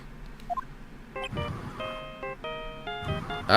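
A mobile phone ringtone from the Phoenix Wright: Ace Attorney video game plays as a bright electronic melody of short, evenly stepped notes, fairly loud and continuous after a brief quiet start.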